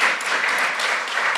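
Audience applause at a live magazine launch event, a steady wash of clapping hands from a crowd, loud and continuous throughout with no voices.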